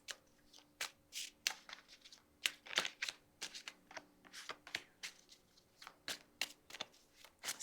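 Tarot cards from the Solar Kingdom deck are shuffled by hand in a quiet room, producing a quick series of crisp riffling flutters and soft slaps, close and irregular, with no talking.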